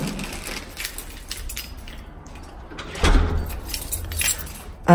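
A bunch of keys jangles near a locked apartment door during a move into a new home, with scattered metallic rattles and a louder clatter partway through and again at the end, alone without talk.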